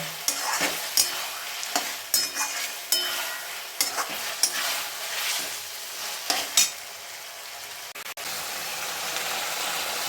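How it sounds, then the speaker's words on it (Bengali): Marinated chicken stirred and sautéed in a pan for chicken ghugni, a steady close sizzle with regular scraping strokes of a spatula and occasional sharp knocks against the pan. "এই ম্যারিনেট করা চিকেনটা এর মধ্যে দিয়ে দিচ্ছি। এটাকে একটু ভালো করে কষিয়ে নেব।"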